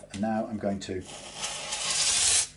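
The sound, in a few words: sanding guitar frets with grit paper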